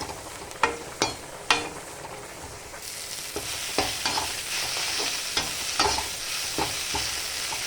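Fenugreek leaves and sesame seeds frying in a pan while being stirred, a steady close sizzle with repeated sharp scrapes and clicks of a spoon, loud and without talk.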